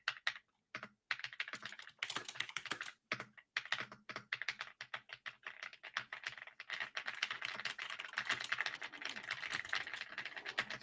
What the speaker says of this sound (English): I have a new keyboard to replace my other keyboard, and it sounds like this.